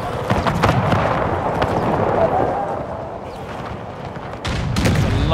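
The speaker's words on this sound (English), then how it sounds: "I think we got a pretty good cannon hit going through this line" Cannon fire in the video game Empire 2, a Polish-Lithuanian Commonwealth campaign battle, rolls out as dense, continuous booming and crackling salvos with sharper reports near the start and end.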